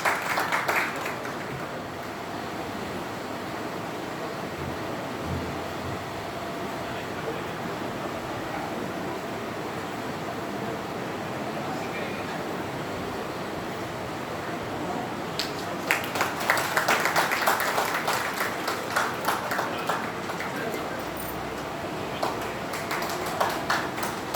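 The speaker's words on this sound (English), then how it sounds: "Round of applause for P.L. Shah ji, sir please." Crowd applause at a yoga institute event in Kolkata, honoring a guest, rising into a louder burst of clapping in the final seconds over a steady wash of background noise.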